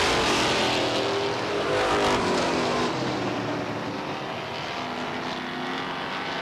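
Stock cars race at Star Speedway, their engines forming a loud, continuous roar that fades a little as the cars draw away, with no voices over it.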